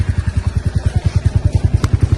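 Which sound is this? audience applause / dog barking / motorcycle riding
motorcycle riding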